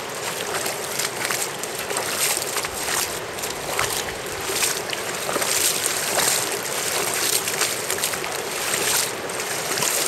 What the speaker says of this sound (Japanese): いや、凄まじい流れだね。